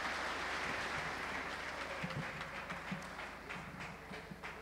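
A church congregation claps to send off a group of people, a soft, distant patter of many hands that continues steadily under a faint hum.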